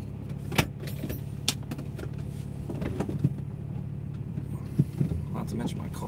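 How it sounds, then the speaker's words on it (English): A car drives along the road with a low, steady engine and road rumble from inside the cabin, accompanied by occasional soft clicks and rattles, and a person talks quietly over it. "I'm just driving back home"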